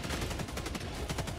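Mortar fire in a video game battle against Illuminates, heard as a dense, continuous barrage of loud booming blasts and rapid crackling reports layered over one another, with no pauses and no voices.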